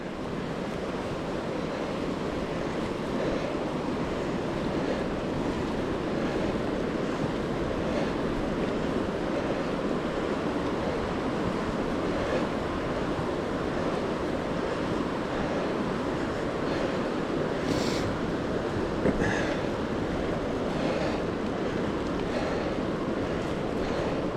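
River rushing through a canyon below an overlook, carrying boulders, a steady broadband roar with light wind buffeting, continuous and unchanging for the whole stretch.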